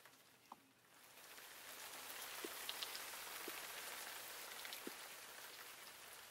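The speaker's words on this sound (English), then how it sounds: "It's raining." Rain falls in a video game world, a steady soft hiss of drops with a few faint scattered ticks, rising slightly after the first second and holding even throughout.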